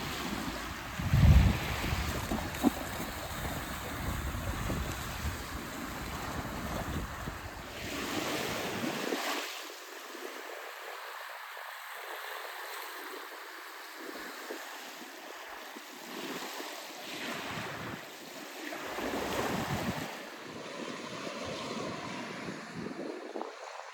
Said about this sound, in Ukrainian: класно, але вітерець прохолодний